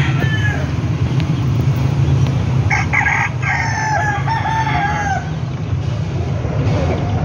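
A rooster crows loudly with a long, wavering call, over a steady background hum and rustle; a fainter cluck or crow follows.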